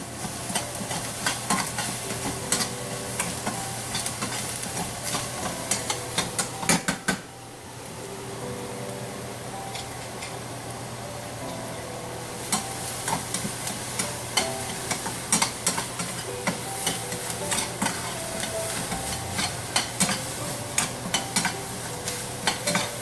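Onions frying with salt in a pan on the way to a banana flower kuzhambu, a steady sizzle with frequent stirring scrapes and clicks throughout, close by and alone.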